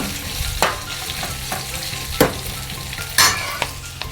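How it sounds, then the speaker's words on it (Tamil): Onions sautéing with a little salt in a pan for Jaffna dried fish curry sizzle steadily, broken by several sharp stirring scrapes against the pan, close and without talk. "வெங்காயத்தை கொஞ்சம் பிரித்து விட்டுட்டு லைட்டாக கொஞ்சம் உப்பு போட்டுட்டு வெங்காயம் வதங்குறதுக்கு"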